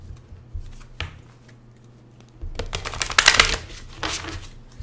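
Oracle cards from a Romance Angels deck being handled and pulled, with soft scattered paper clicks and shuffles that build into a denser flurry of card snaps midway before tapering, close and fairly quiet, with no talk.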